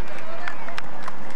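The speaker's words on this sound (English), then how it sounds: "And a nice crowd there." Roadside crowd at the Tour de France, stage 7 in the town of Romainvilliers, cheering riders as they pass: a loud, steady wash of cheers and clapping with a few brighter shouts, under a commentator's talk.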